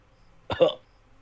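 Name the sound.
player imitating a character's cough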